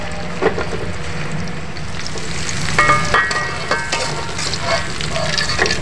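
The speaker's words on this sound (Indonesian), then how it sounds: "Kita goreng sampai ini bumbunya layu" Rendang spice paste fries in a pan with continuous loud oil sizzling and crackling, broken by a few sharp clinks and stirring scrapes.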